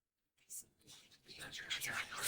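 Whispering from inside a house in What Remains of Edith Finch, a soft breathy hush that starts after a short silence and grows gradually more insistent, close and faint.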